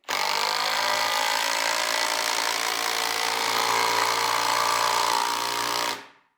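A Kress KUB61.91 20V brushless impact driver drives a screw in one steady, loud, continuous run of about six seconds, then stops abruptly with no talk.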